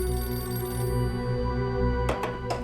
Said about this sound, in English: and our phone rang